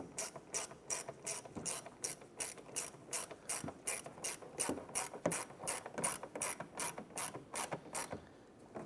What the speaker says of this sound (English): let's go back and tighten all of them down.